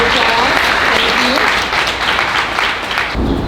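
Loud applause fills a commencement hall as a presenter is called forward, many hands clapping steadily with cheering voices mixed in, ending with an abrupt change in the room sound.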